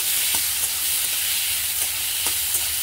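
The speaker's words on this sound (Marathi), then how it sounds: "थोडंसं तेलामध्ये फ्राय केलं ना तर छान चव येते" Chopped onions and tomatoes fry in a little oil for sambar, a steady close sizzle with a few faint stirring clinks and no voices.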